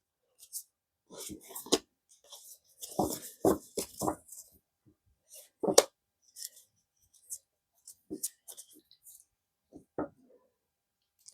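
Soft, quick snaps and riffles of tarot cards being shuffled come in short bursts, close and quiet, with near-silence between them.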